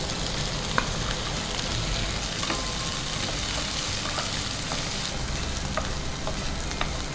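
Sliced onions fry in a hot pan with a dense, continuous sizzle and crackle, punctuated by faint stirring clicks, steady and close throughout.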